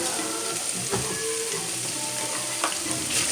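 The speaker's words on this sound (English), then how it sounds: "I have my stove on medium heat. I just put just about 2 tablespoons of the oil, and I just crushed the tofu." Crushed tofu sautéing in about two tablespoons of oil in a pan on a stove over medium heat, giving a steady, close sizzle and crackle with occasional scrapes and stirring clatter throughout.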